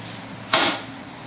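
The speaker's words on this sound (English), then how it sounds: "if you heard that little trip in the background, that was the meter." A residual-current device trips as an RCD test meter is pressed, giving a single short, sharp mechanical click with a quick decay, fairly quiet and alone.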